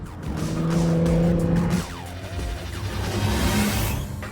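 A Honda NSX hybrid supercar drives hard, its engine loud and close with a rising, shifting drone, brief tyre squeal as it corners, then the engine note dropping and building again.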